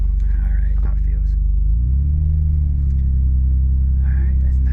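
Manual stick-shift car pulling away, a loud steady low engine drone that swells as the clutch engages and the car drives off, with a voice talking softly over it.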